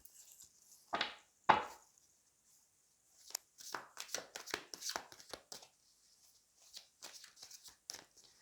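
Large oracle cards being shuffled by hand, first two sharp riffles, then a pause, then a longer run of irregular slapping and sliding shuffles, close and crisp against silence.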